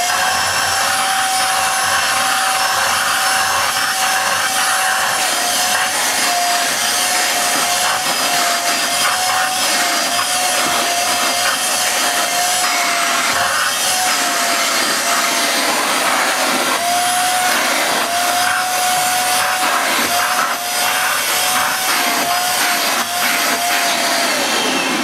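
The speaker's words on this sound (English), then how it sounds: "I'll just try it, actually, with the straight suction nozzle." A Hoover Jovis 550-watt corded handheld vacuum cleaner with a straight suction nozzle works a carpeted stair, giving a loud, steady motor whine with scraping and rubbing against the carpet, and no talking.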